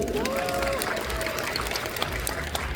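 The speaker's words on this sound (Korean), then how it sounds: "여러분 큰 박수 부탁드립니다." Fan meeting audience applauding in a large hall, a steady dense wash of clapping throughout, with a faint voice or tone drifting over it early on.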